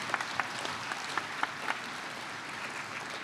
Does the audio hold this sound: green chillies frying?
no